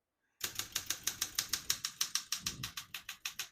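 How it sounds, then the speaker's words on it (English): A 1968 Olympia SM9 vintage portable typewriter is typed on in a brisk, even rhythm, with about eighteen crisp key strikes, close and clear and with no voice. "As you can see, all the keys type nice and none of them skip or stick."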